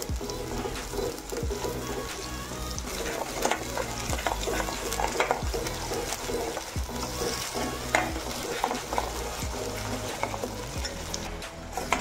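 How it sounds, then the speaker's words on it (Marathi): Tomato and onion paste sizzles and fries in a pan while being stirred, with steady scraping strokes repeating throughout and a continuous close frying hiss, no talking. "ती टाकून घेणार आहोत। छान हलवून घेणार आहोत आपण।"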